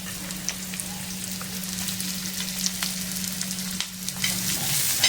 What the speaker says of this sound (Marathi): तुम्ही पाहू शकता आपला कांदाही छान असा भाजायला लागलेला आहे